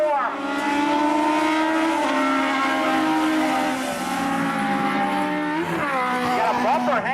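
Race cars at Tosa Raceway Park accelerate hard out of turn four, several engines roaring loud and rising in pitch together, with fresh upshifts and revs surging near the end.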